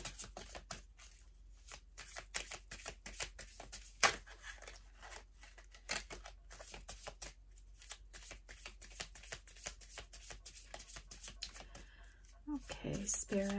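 Tarot cards being shuffled by hand produce a quiet, close run of rapid papery riffles and soft flicks that continue steadily, with a sharper snap partway through.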